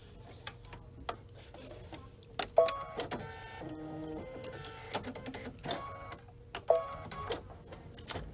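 A Kimberbell embroidery machine stitches flowers onto a belt bag, its needle ticking and clattering in quick, uneven bursts, close by and moderately loud, with no talk.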